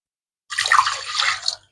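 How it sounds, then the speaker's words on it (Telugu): Water poured into a pot of split moong lentils, a short close splashing gush of about a second that then stops. "ఒక two and half glasses water వేయాలి"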